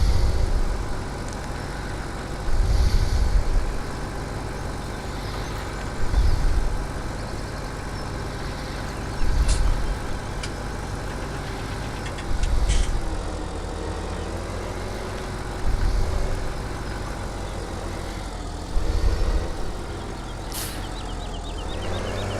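A tractor engine in Farming Simulator 17 on PS4 drones steadily at a low pitch, with periodic louder rumbling surges every few seconds as it drives.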